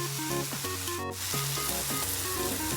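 A Thai-style omelette with enoki mushrooms sizzles steadily in a frying pan, a close, continuous crackle of hot oil that holds even throughout, with faint tonal music underneath.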